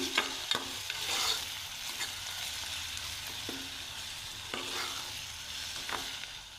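A spoon stirs prawn biryani masala with cumin powder in a pan over low heat, making scraping strokes at a steady rhythm over a soft sizzle, close and moderately loud, with no voices.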